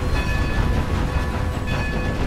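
Riding aboard a train on rails in the Red Dead Online video game, a steady loud rumbling roll with a faint rhythmic clatter and no talking.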